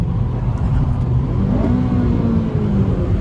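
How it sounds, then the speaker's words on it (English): A stanced Honda EK revs its engine nearby on a UK road, a steady mid-pitched engine drone with a rising rev, heard from inside another moving car. "He just revved at us."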